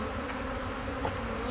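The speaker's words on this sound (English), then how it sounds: "A lot of bees." A dense, steady swarm of honeybees drones in a close hive, the buzzing continuous and fairly loud throughout with no voices over it.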